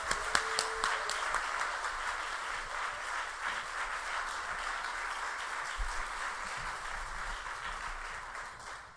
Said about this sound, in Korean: 우리가 은혜를 기대하는 마음으로 아주 열렬히 박수로 좀 환영하도록 하겠습니다